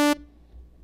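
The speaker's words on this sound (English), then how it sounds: "So now it's just a basic sawtooth wave." A single brief buzzy basic sawtooth-wave synth tone from Xfer Serum sounds for a split second, then quickly cuts off into near silence.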